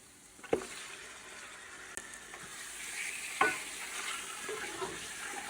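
Chicken marinated in sour yogurt frying in a pot with ginger, a soft steady sizzle that grows gradually louder, punctuated by a few sharp knocks of a utensil against the pot, close and without speech.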